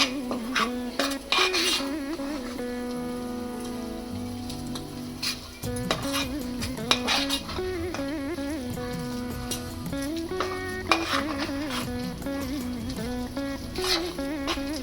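Repeated clinks and scrapes of a utensil against a bowl as tomato garlic pickle with green chillies is mixed, with irregular rhythm and some sizzling in the background.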